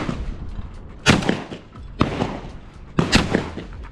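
Gunshots at outdoor shooting practice for hunting, likely shotgun fire at thrown clay targets: three sharp, loud reports about a second apart, each trailing a short echo over faint background noise.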